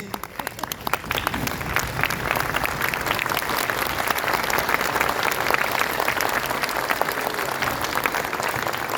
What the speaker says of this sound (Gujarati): આપણે સૌ તેમના ઊભા થઈને તાળીઓના નાદથી વધાવી લઈએ પ્લીઝ